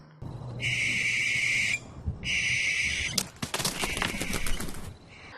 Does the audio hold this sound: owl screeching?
yes